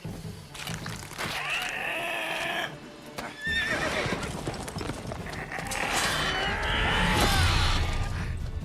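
A horse in the video game Witcher 3 neighs and whinnies in several loud, shrill bursts amid game noise, rumbling and clattering hoofbeats.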